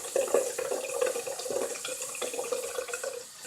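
Tap water running steadily into a sink while a makeup sponge is washed under it, with soft splashing and squishing, close and moderate in level.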